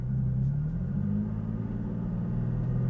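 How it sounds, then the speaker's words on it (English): Toyota Tacoma pulling away on a freeway stretch with light throttle, a steady low engine rumble and drone heard from inside the cab, rising gently in pitch as the truck gains speed. "So that's just a little bit of throttle, and I got up to 35 miles an hour"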